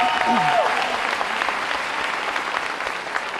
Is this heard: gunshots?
no